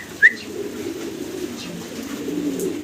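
Pigeons coo in a low, steady murmur from a farm loft, a pair of domestic pigeons close by, with one brief sharper chirp near the start and no voices.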